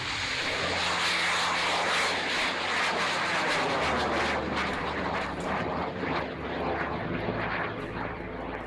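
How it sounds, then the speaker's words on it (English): A 400-pound amateur V-2 rocket model lifts off on one O and two N motors, a loud, sustained roaring thrust that holds steady for several seconds with no speech over it. "colossal 400-pound V-2 rocket model was built by two crazy amateurs, and it has one powerful O and two N motors"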